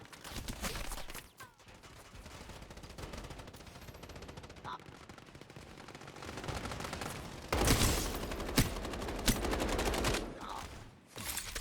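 Automatic gunfire from a video-game gun in rapid bursts over a noisy background, with several louder, sharper shots in a cluster near the middle and end.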